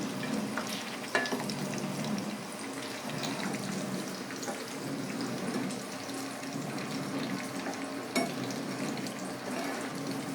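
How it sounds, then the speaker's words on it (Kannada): Food frying crisp on both sides in a pan over a low flame, with a steady soft sizzle and a few sharp clinks of utensils. "ಎರಡು ಕಡೆ ಚೆನ್ನಾಗಿ ಕ್ರಿಸ್ಪಿಯಾಗಿ ಫ್ರೈ ಮಾಡಬೇಕು, ಕಲರ್ ಚೇಂಜ್ ಆಗೋವರೆಗೂ."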